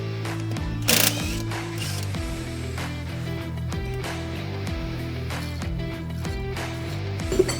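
A hand ratchet backing out bracket bolts near the turbo of a Freightliner Coronado truck, a close, steady run of rapid clicking strokes in repeated bursts, with a brief knock near the start.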